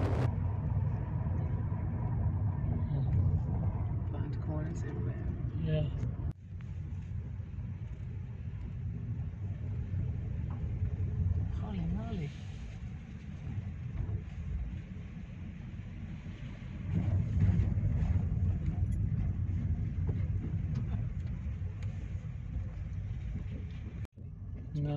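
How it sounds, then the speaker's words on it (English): A big truck rumbles along a road near Benllech Beach on Anglesey, a heavy low drone that holds steady for the whole stretch and swells a little near the end, with wind noise on top. "Yeah, a lot of big truck comes through here."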